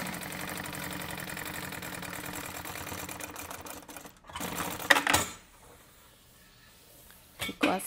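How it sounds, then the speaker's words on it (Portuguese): A sewing machine topstitches the back panel of a fabric vanity case, running as a steady motor hum for about five seconds before stopping, followed by quiet handling noises. "E vai fazer um pesponto aqui nessa parte."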